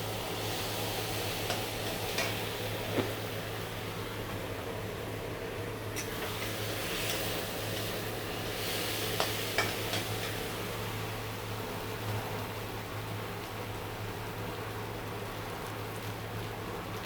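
Potatoes frying in a pan with turmeric, a steady low sizzle with faint stirring scrapes and a constant background hum, fairly quiet and continuous throughout.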